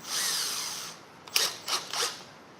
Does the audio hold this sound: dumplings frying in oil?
no